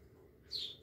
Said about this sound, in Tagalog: Ayan yung ibon na yan.